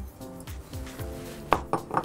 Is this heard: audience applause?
no